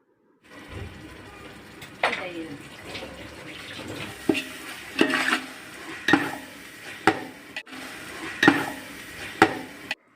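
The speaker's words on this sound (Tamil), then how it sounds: "நல்லா மிக்ஸ் பண்ணிகிட்டே இருங்க" A spoon scrapes and stirs juicy tomatoes and salt in a pan for chicken biryani, about eight sharp, evenly spaced strokes over a soft steady sizzle, close and clear.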